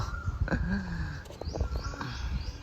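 Birds call from mango trees overhead on a hot, breezy day, several short chirps and tweets scattered over soft background noise, fairly close and with no speech.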